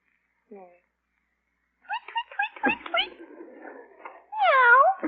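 A human voice imitates a cat, giving a short mew, then a run of yowling, wavering meows that rise and fall, ending in a long loud caterwaul, close and clear.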